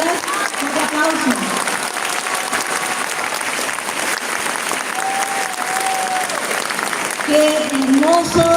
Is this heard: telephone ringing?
no